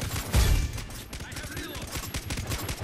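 Rapid gunfire in the Far Cry 3 co-op shooter, a loud close burst followed by a steady stream of quick repeated shots under game noise, with faint voices.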